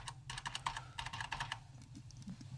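Keys on a Vector 06C computer keyboard clatter in a quick run of close, crisp taps, some keys sticking, then a few sparser presses, faint and alone without speech.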